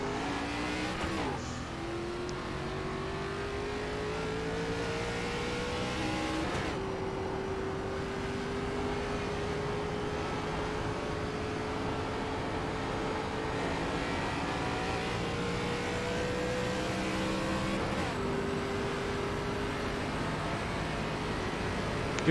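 ARCA race car engine at Charlotte in iRacing, droning steadily at high revs with gear-shift dips and lifts, loud and continuous, no talking.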